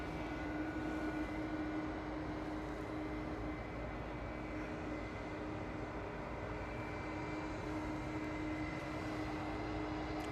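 A British Airways Airbus A320 Classic jet takes off from runway 23 left at Manchester Airport, heard as a steady, fairly distant engine roar that holds evenly throughout with no talk over it.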